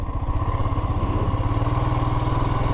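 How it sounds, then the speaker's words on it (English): A motorcycle engine roars loud and steady while riding on small roads during a trip from Sweden to Italy, with a continuous close-up throbbing drone and no voices. "my engine is pretty loud now"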